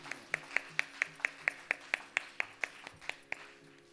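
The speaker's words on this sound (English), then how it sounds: "A big round of applause to Srimati Shruti Mahadevan." Audience applause for a Bharatanatyam performer at a dance recital, heard as a steady run of about fifteen sharp, evenly spaced claps that fade slightly toward the end, with no talk.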